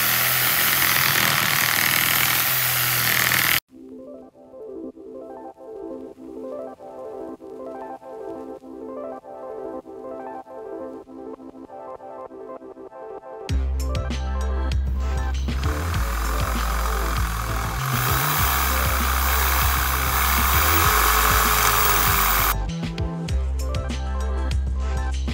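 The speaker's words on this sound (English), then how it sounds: "So we're gonna do that today with the Sawzall battery box." A battery-powered Sawzall reciprocating saw cuts material for a battery box, its loud buzzing motor running hard, easing to a quieter rhythmic chatter, then roaring again close up.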